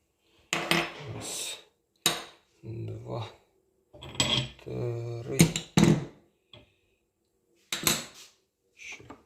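Metal gas stove burner caps lifted off and handled, giving a series of close, sharp clinks and clatters spaced between pauses, with a voice talking briefly in between.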